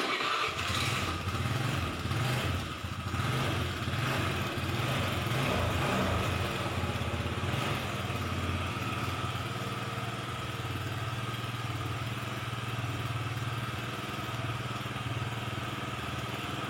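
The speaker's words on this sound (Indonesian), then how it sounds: "kita nyalakan dulu nih motornya" An older Honda Vario motorcycle engine is started and left idling, a steady mid-pitched putter running close and even throughout after an initial rough start.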